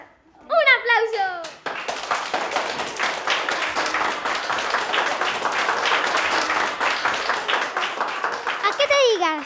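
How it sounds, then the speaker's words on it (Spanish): Studio audience at a wheel-of-fortune style game show workshop breaks into applause for two contestants, a steady wash of clapping lasting several seconds, with a voice speaking just before and again as it fades. "¡Un aplauso!"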